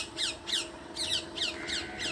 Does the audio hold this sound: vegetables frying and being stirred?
no